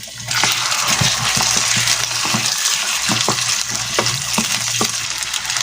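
Chicken pieces fry in a pan for a Filipino chicken and vegetable soup, a loud, steady, close sizzle with scattered pops and stirring knocks throughout.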